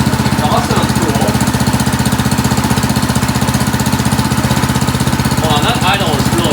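A Harbor Freight ATV engine idles close by, a loud, fast, steady chugging pulse that runs without a break, with faint voices underneath.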